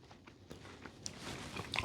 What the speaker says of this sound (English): The way the peanut butter cookies should be on the outside, very crunchy.